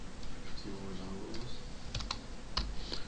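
Java code is typed on a computer keyboard in quick, close bursts of keystrokes, with a brief faint voice murmuring underneath.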